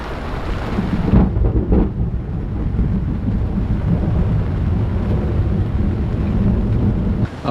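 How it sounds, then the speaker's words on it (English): Steady rumbling thunderstorm at sea during an Atlantic crossing, with heavy low roar and wind buffeting, rain hissing throughout, lightning all around, and a deeper thunder swell near the start. "we've also got a bit of a 360-degree light show with the lightning and thunder going on."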